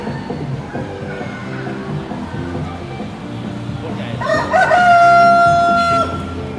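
A giant Brahma chicken, a large show-bird breed, clucks softly under background noise, then lets out one loud, close, drawn-out crow near the end.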